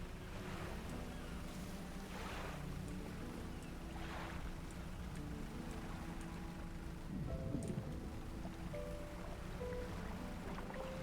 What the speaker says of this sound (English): Oh yeah, that second engine really helps.